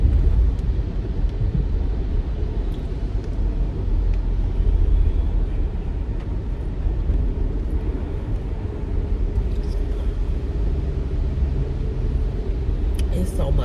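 Heavy rain pours during a lightning storm while thunder rumbles, making a loud, steady, broadband low roar that runs unbroken for the whole stretch with no pauses.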